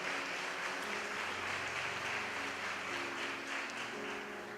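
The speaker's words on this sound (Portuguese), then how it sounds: "Dá uma salva de palmas para o Senhor." Congregation clapping at a church revival event in Brasília, a steady dense wash of applause filling the whole stretch with a low musical hum underneath, no voices standing out.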